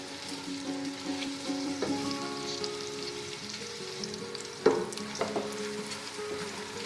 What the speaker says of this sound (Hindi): प्याज को हम फ्राई कर लेंगे, गोल्डन ब्राउन हमने करना है